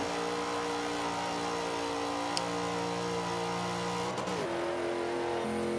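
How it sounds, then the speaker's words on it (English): A Camaro race car in the video game Forza 5 accelerates with a steady, droning engine tone. Near the end it briefly shifts or drops in pitch, and no one speaks. "this car will just make it up in the straightaway just because the acceleration and the top speed is so good"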